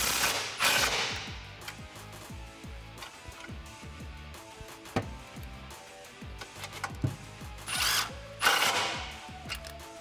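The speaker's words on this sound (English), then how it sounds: "grab a 13mm socket and extension and tighten these down" A power drill or impact tool drives exhaust hardware tight with a 13mm socket and extension while a Ford Performance by Borla axle-back is installed on a 2018-2020 Mustang GT, giving repeated loud whirring bursts amid clanks and handling noise.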